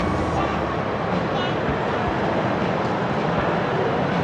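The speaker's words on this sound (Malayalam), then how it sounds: "ഇത് റെയിൽവേ സ്റ്റേഷനാണ്." A busy London railway station hall, with a constant rumbling hum of trains and crowd murmur, indistinct voices blending into the background throughout.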